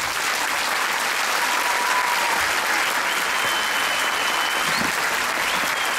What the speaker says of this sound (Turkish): şu an sahnede göremediğim Hamzat hocama çok büyük bir alkış rica ediyorum